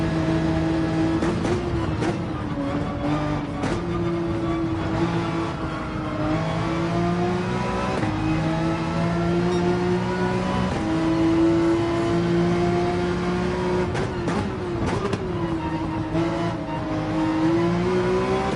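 A racing car in Gran Turismo 7 at Sardegna revs and accelerates, its engine note climbing and shifting steadily over a continuous loud drone, with no talk over it.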